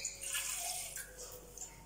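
Water poured into a catfish curry in a clay pot, a quiet, brief trickling pour with a light splashing texture, heard close and alone.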